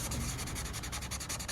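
A chisel tip marker rubs back and forth across paper while colouring pale roses, a soft, steady scratchy swishing in quick repeated strokes, close and quiet with no talking.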